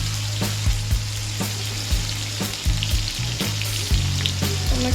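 Chopped tomatoes dropped into hot oil tempered with cumin, asafoetida, curry leaves and chickpeas, a loud continuous frying sizzle with a low hum and repeated utensil taps against the pan, close up and without speech.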